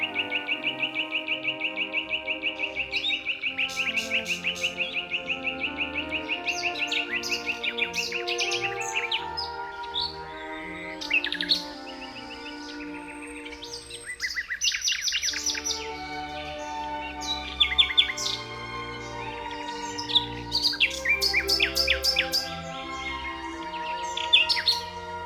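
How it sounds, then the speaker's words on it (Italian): A songbird delivers a melodious, varied spring song in the wild along the Tagliamento river, with long runs of clear whistles, trills and chirps that shift in pitch and pattern, close and unbroken, without talking. "emette un canto melodioso e variato, come nessun altro uccello europeo"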